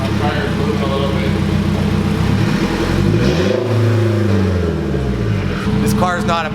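A turbocharged 8th-generation Honda Civic engine revving loudly on its first start, a sustained harsh drone that swoops down and back up mid-clip, close and continuous throughout.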